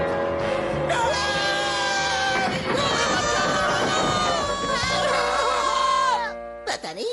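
Several cartoon characters wail and scream together in a Hindi-dubbed Perman episode, a sustained loud chorus of shrill, wavering cries that runs for several seconds before cutting off abruptly near the end.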